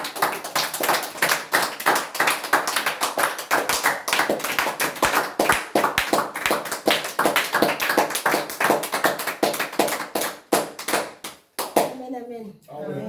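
A church congregation claps in fast, steady unison for several seconds, loud and close, while voices cheer and call out beneath it before the clapping breaks off near the end.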